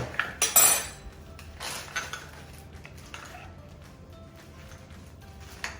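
A utensil clinks and scrapes against a small bowl while flavoured cream cheese is mixed close by. A few sharp knocks come at the start, followed by softer, quieter stirring.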